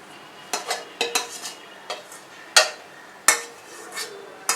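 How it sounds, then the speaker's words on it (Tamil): Metal spatula clanks and scrapes against a wide kadai while chicken and egg fried rice is tossed and mixed, a series of sharp, close, irregular knocks with a faint sizzle between them. "எக்கும் சிக்கனையும் போட்டு நம்ம மிக்ஸ் பண்ணிக்கலாம்"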